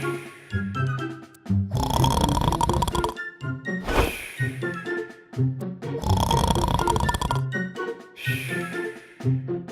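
A man snoring loudly in long, rasping bursts, each harsh inhale followed by a pause, repeating in a steady rhythm close by.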